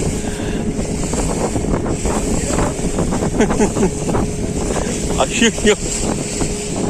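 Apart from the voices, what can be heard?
boat moving on the sea with wind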